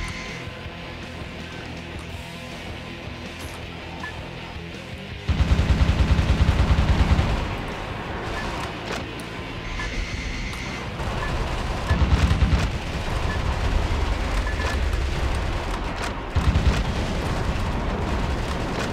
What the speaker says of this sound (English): Let's try with the rocket launcher.